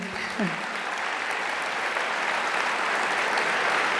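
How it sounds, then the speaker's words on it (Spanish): Audience applause at a formal Argentine civil code ceremony, a broad sustained clapping that swells slightly and holds steady, with a brief voice near the start. "sí aplaudan, por favor, me parece muy bien."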